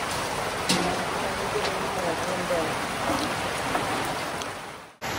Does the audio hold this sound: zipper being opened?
no